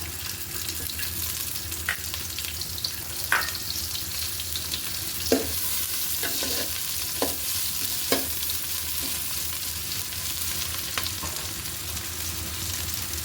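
Chopped onions frying in hot oil in a pan, a constant loud sizzle broken by occasional scrapes and knocks as a spatula stirs them, with no talking.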